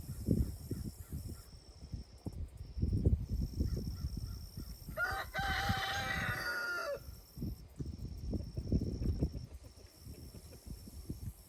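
A rooster crows loudly in the middle, surrounded by clucking chickens and rustling outdoor noise throughout, on a farm garden during strawberry planter maintenance.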